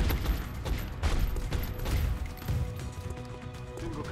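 Soldiers shooting in the turn-based strategy game XCOM: a dense, continuous volley of gunfire with crashing impacts, loud and sustained throughout with no talking.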